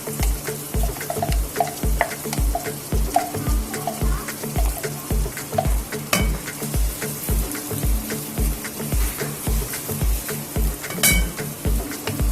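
Chopped onions fry in hot oil in a pan with a steady sizzle, broken by regular clinks and scrapes of a utensil against the pan as they are stirred.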